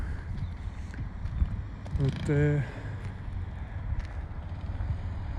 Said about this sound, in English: it's windy again, but it's always windy here